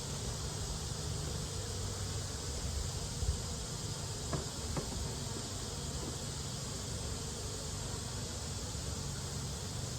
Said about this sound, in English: I just saw the bees with their pollen baskets full.